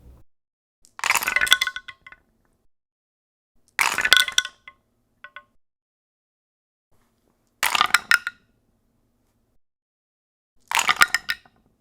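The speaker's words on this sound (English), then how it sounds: "give you a listen of what it sounds like rolling dice down the dice tower into both the personal dice tray" Four separate bursts of dice clattering and tumbling down a Wyrmwood dice tower into a tray, each rattling for about a second, with quiet gaps between them.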